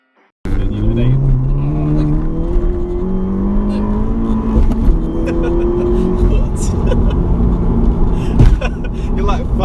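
A tuned Skoda Octavia vRS rated at around 400 bhp accelerates hard, its engine note climbing through several gear shifts, loud and close, with road noise throughout.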